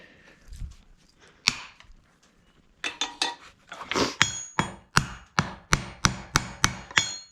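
A hammer peens copper rivets to fix leather pads onto a horse's shoe: sharp, close metallic taps, a few scattered at first, then a steady run of about a dozen evenly spaced strikes.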